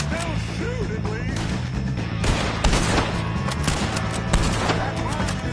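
Rapid bursts of gunfire in Red Dead Redemption 2, dense and continuous with sharp louder shots standing out, mixed over rumbling game background with voices talking.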